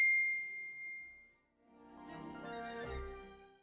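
A notification bell chime rings once with a bright, clear ding that decays over about a second, then a soft, swelling musical tone follows, with no voices.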